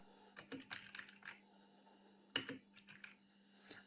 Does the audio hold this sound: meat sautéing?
no